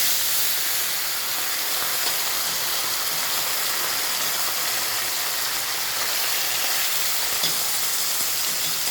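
Fish fries in oil over low heat, giving a dense, even, close hiss of sizzling that holds steady throughout without a pause or any voices.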